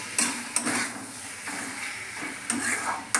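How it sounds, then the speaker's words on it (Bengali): Butter going into pointed gourd (potol) frying in a pan gives a soft sizzle with bursts of stirring and scraping against the pan, recurring every second or so, close and moderately loud, with no talking. "পটলটা হয়ে গেছে, এবার আমি বাটারটা দিয়ে দেবো।"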